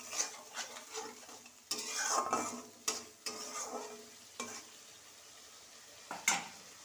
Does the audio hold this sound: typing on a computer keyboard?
no